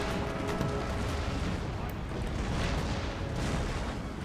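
Artillery fire in the Empire Total War video game, a dense, continuous roar of booming cannon and battlefield rumble, loud and sustained with no clear gaps between shots.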